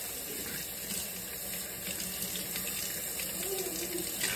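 Tap water runs into a sink while a coffee mug is rinsed, a close, continuous splashing stream with slight shifts in tone as the mug moves under it, without any talking.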